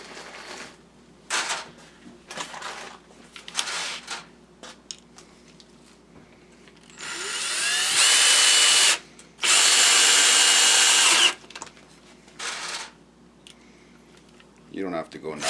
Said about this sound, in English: we'll get a couple of screws in here